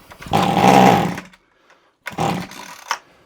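A small two-stroke strimmer engine fires and revs loudly for about a second, falls quiet, then fires again in a second short, rough burst.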